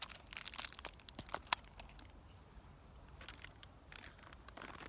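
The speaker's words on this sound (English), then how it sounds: "I'm using a plastic bag so it'll be easier to mix" Crinkling and rustling of a plastic bag, a busy burst of crackles early on with a sharp crunch, then quieter intermittent rustles, close by.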